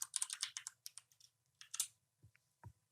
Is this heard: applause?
no